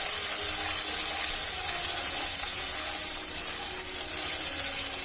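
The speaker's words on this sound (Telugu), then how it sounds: "జింజర్ గార్లిక్ పేస్ట్ ఫ్రై అవుతుంది." Ginger garlic paste frying in a hot pan while cooking restaurant-style paneer butter masala, a steady, even hiss of sizzling oil that continues unbroken at close range.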